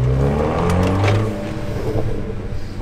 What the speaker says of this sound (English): you hear those burbles?